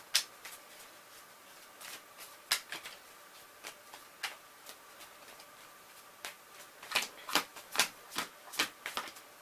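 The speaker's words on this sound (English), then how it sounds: "So we shuffle our hand into our deck and draw the amount of prize cards we have." Pokemon trading cards being shuffled into a deck on a tabletop, a run of crisp riffling snaps and flicks in irregular bursts, close up and fairly quiet, busiest toward the end.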